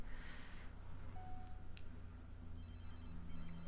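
A telephone rings in The Sims 3, a short electronic ringtone heard over steady game background music, fairly soft and without voices.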